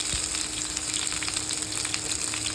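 Onions frying in hot oil for Nepali-style veg chowmein, a steady close crackling sizzle that runs unbroken and fairly loud with no voices.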